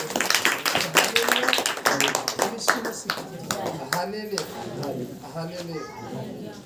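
A church congregation claps hands in quick uneven bursts during worship, the claps loud and close at first, then thinning out as voices singing or talking take over.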